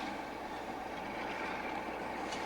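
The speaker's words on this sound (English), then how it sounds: "This is a Class 147 who's with a down train from London, coming just as far here as Shrewsbury" A Class 147 train arrives at Shrewsbury on a down service from London, a steady rolling rumble of wheels and carriages that holds at an even level with a faint squeal near the end.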